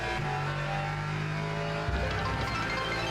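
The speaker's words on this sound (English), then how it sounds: "Like the downshifts on the Alpine." An Alpine GT3 race car in a racing video game at Le Mans or Fuji drones with a steady engine tone, then drops sharply as it downshifts, with a rough burst of engine noise afterwards.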